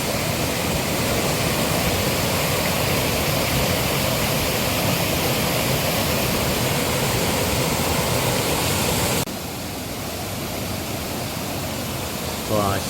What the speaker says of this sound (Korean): 와 여기 폭포의 시원함이 장난이 아니네요